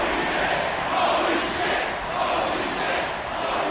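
Wrestling match crowd cheering and roaring in an arena, a loud continuous wall of voices that swells and dips slightly, with little else over it.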